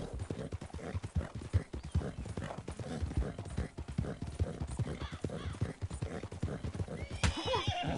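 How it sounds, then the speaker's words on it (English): A horse gallops in a fast, rhythmic clip-clop of hooves, close and prominent, with a neigh near the end. "He's got him a good horse, don't he? He's keeping up."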